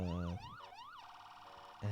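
Wailing ambulance siren from a driving game, sweeping up and down loudly for about a second with an engine hum below, then a steady rising tone, and a harsh blast at the end.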